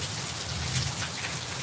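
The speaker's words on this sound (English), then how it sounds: "that's why it's raining like this" Steady rain falling during a live broadcast, a continuous even hiss of drops on surfaces, close and unbroken with no voices over it.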